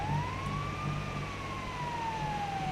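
A game ambulance's siren in GTA FiveM wails continuously, one long rising and falling sweep over nearly three seconds, loud and near above a faint rumbling vehicle drone.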